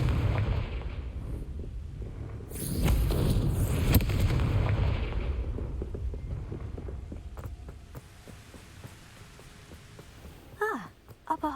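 Confringo explosive spell blasts from the video game Hogwarts Legacy: a loud, heavy burst with rumbling debris, then scattered crackles and impacts that fade into quieter ambience before a few sharp sounds at the end.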